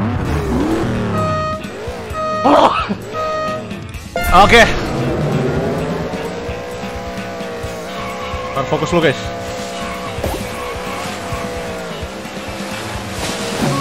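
Racing cars in the mobile game Beach Buggy Racing 2 roar and skid along a beach course, with engine whine and tire squeals rising and falling while someone talks excitedly over the game sounds.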